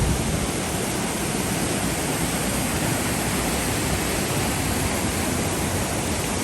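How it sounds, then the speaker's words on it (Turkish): A waterfall near Jaun village in the Swiss Alps pours with a loud, constant, full roar of rushing water, steady throughout with no voices. "şimdi o güzel şelaleyi şöyle bir gezelim"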